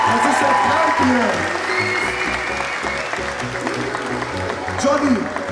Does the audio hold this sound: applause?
yes